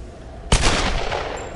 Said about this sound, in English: I guess they actually reacted to the gunshot